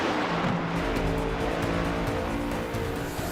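A field of NASCAR Cup Series stock cars circles the Daytona track in the iRacing video game, a continuous droning roar of engines with a pack passing steadily and no talk.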